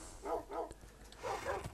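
Dogs or wolves bark in Minecraft, two quick yaps followed by a pause and then two more, soft and fairly close.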